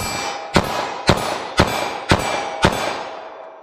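Five sharp 9mm handgun shots fired in quick succession from close range, evenly spaced about half a second apart, each crack trailing a brief ringing decay.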